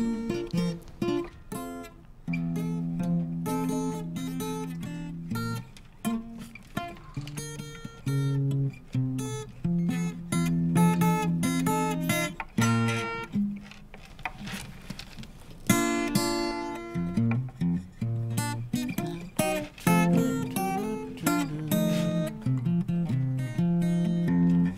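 A musician plays a piece on guitar live in a studio, a dense, continuous stretch of bright plucked melody and chords with a steady rhythm, fairly loud and with no talking over it.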